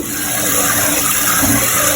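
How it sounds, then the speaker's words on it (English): Tap water runs steadily and loudly over about a cup of uncooked white rice being washed in a kitchen sink, a continuous broadband rush with no talking. "And this is how I wash my rice."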